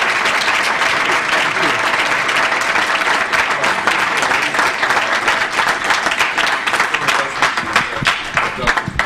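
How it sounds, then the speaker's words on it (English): A lecture audience breaks into loud, dense applause, many hands clapping continuously at close range, with some voices faintly mixed in. "so we applaud you"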